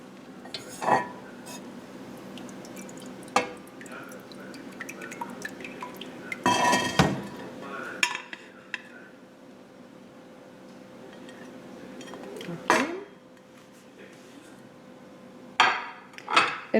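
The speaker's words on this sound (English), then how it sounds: "we are going to remove the chestnut from the pan," Chestnuts lifted out of a pan of cold syrup while making French candied chestnuts: scattered clinks of a utensil against the pan, soft sticky drips and stirring sounds, with a few sharper knocks spread across a quiet kitchen.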